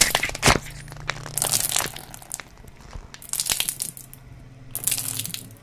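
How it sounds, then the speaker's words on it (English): Harsh bursts of ripping, crackling noise come and go in waves over a wet, sloshing churn and a low steady hum underneath. "it sounded like paper being torn apart, while someone was swinging water in a bucket back and forth"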